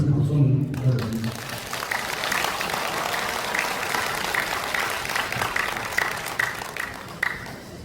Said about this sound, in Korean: 우리 조경원 의원님 큰 박수 한번 부탁드립니다.